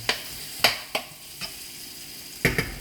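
Sliced onions frying in a pan for vegan eggplant fritters, with a soft steady sizzle broken by about five sharp clanks and scrapes of a utensil against the pan, close by and without speech.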